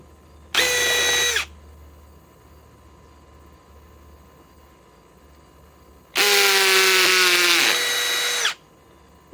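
Power drill driving large fasteners into an old tree stump, two bursts: a short whine, a pause, then a longer loud grinding run as the clutch slips and ratchets, close and alone.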